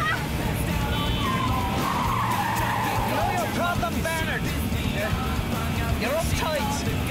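A car driving fast skids with tire squeals over a steady engine and road rumble, close and continuous, while people talk and shout over it.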